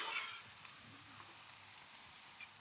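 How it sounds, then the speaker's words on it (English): A steady, faint sizzle of shallots and garlic frying in a hot pan, a continuous crackling hiss with no voices. "That's sizzling away nicely."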